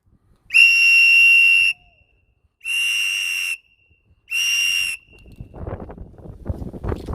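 Three long, steady, shrill whistle blasts with short pauses between them, loud and close, followed by a rising wash of crowd noise, outdoors at a cheer for frontline essential workers.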